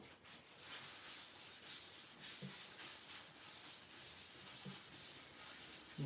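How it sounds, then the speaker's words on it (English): Sanding sealer being rubbed onto very dry beech wood, a steady close scrubbing friction with rhythmic strokes repeating every half second or so, continuous and alone without talk. "So I'm going to get some sanding sealer on here now."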